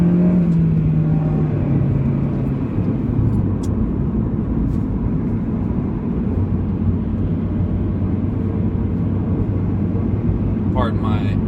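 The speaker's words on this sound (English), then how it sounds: "I'm behind a wood chipper truck" Steady engine rumble and road noise from inside a car with a four-cylinder engine, driving behind a wood chipper truck, loud and continuous, with a brief shift in engine note partway through and no talk.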